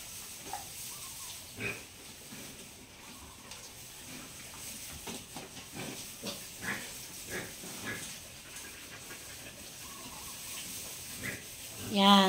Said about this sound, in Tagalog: Ito na yung anak ng baboy ko.